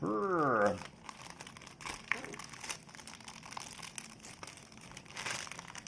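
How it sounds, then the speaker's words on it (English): Plastic toy packaging for a Bandai candy toy Build SO-DO action figure being torn open, a close crinkling rip followed by scattered crackles and rustles of the wrapper handled at arm's length. "let me rip this open"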